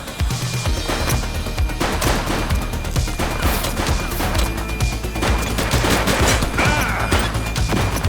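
Sustained gunfire in the police video game The Precinct, with dense overlapping shots and rapid bursts in a continuous loud barrage that never lets up.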